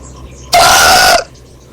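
A single loud, drawn-out burp lasting under a second, bursting out of near silence with a rough, voiced tone and cutting off abruptly.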